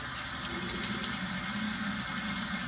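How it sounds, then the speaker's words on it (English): Water from a faucet runs steadily and close by as a face is washed in the morning, a constant hiss that continues without pause. "I straight up will just use like water in the morning to just wipe off my face."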